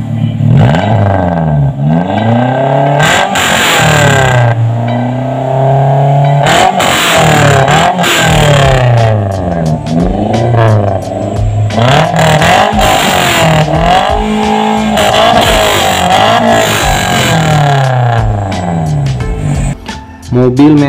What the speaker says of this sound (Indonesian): Mobil Matic pakai knalpot racing